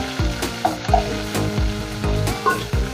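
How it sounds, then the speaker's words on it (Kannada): Sliced onion frying in hot oil for a South Indian tempering with dried red chillies and curry leaves, a steady loud sizzle broken by several stirring scrapes at a regular pace, close and without talk. "ಈರುಳ್ಳಿ ಚೆನ್ನಾಗಿ ಫ್ರೈ ಆಗಲಿ"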